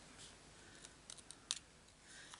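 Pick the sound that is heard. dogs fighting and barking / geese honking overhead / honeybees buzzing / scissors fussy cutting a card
scissors fussy cutting a card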